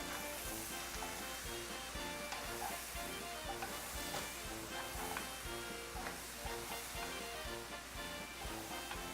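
Diced potatoes and a large diced onion stirred in a Dutch oven, giving a steady, close sizzle throughout with repeated scraping strokes of the spoon at an even rhythm.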